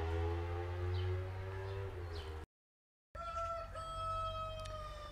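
A Sebulput rooster crows in a farmyard, a drawn-out call cut by a brief silence, followed by further tonal crowing over faint background animal noise.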